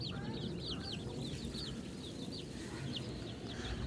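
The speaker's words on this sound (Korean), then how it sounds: "병아리들은 어느새 닭이 다 돼가려고 그러고" Chickens that were recently chicks cluck on a rural farm in Mureung-ri in winter, with several birds calling close by in a repeated, overlapping rhythm over a steady low rumble of background noise.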